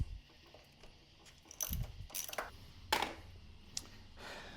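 Ratchet socket wrench with a small 10 mm socket loosening cylinder head bolts on a Honda CBR1000RR motorcycle engine, giving several short bursts of close, crisp clicking separated by pauses.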